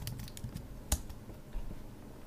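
Quick, light keystrokes on a computer keyboard tap out a password in a short, irregular burst, with one sharper, louder key press standing out near the middle.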